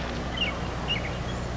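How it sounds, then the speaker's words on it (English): A yellow warbler sings outdoors, two short high chirping phrases spaced about half a second apart, faint and somewhat distant over a low background hum. "over here we just heard a yellow warbler singing"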